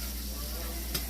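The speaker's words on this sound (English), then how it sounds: "I'm frying some sausage, getting it ready for the pizza topping." Sausage frying in coconut oil in a pan for pizza topping, a brief soft sizzle with a small stir-like scrape near the end.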